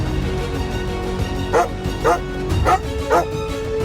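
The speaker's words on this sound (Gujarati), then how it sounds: "આટલા બધા કૂતરા ભસવાનો અવાજ?" Several dogs bark and yip in the distance in a loose chorus of short, repeated calls over a steady background hum.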